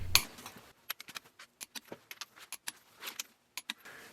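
Wrench work snugging up cylinder head bolts on a John Deere 1010 engine rebuild: a sequence of sharp metallic clicks and clinks at irregular intervals, close and fairly quiet between taps.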